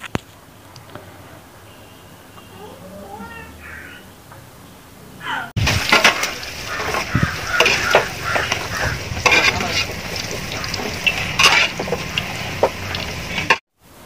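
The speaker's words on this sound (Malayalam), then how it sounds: "അപ്പോൾ അതൊന്ന് ഇളക്കിയിട്ട് നമുക്കത് എടുത്ത് കോരിയെടുക്കാം." Raisins fry in ghee for Kerala-style ghee rice; after a quiet, faint opening, a loud crackling sizzle breaks in, mixed with clattering spoon stirs and scooping scrapes, then cuts off abruptly near the end.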